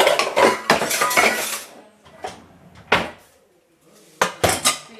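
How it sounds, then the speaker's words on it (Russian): A saucepan being pulled out from among dishes in a home kitchen, with clattering metal and crockery in a busy burst, then a few sharper knocks and clinks spaced out, close and fairly loud. "Я так кастрюлю достаю."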